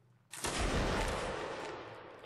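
A volley of musket fire in the Napoleonic Wars video game, one loud near blast of many shots at once followed by a long fading rumble.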